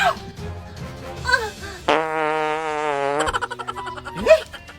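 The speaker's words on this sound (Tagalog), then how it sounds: "Hindi ako buntis. Utot lang yun." In a comedic sketch, a loud, buzzy, drawn-out fart blares for over a second in the middle, with shorter sputtering bursts and other noises around it.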